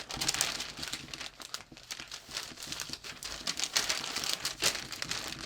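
A paper sewing pattern is folded along a dart leg. The crinkling and rustling is soft and close, with irregular crackles and no voice.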